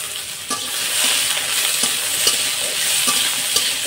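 Dried red chili and Bengali five-spice seeds crackle and sizzle in hot oil, a steady close hiss with sharp pops scattered throughout and occasional stirring.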